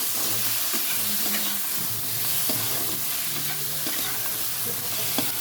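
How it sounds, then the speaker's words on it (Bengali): Paneer sautéed and stirred in a hot pan, a continuous close sizzle and hiss of frying with repeated spatula scrapes and knocks, no voices. "পনিরটা দিয়ে দিলাম আচ্ছা, ভালো করে এটা কষিয়ে নিই"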